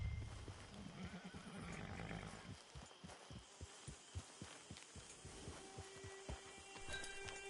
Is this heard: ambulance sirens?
no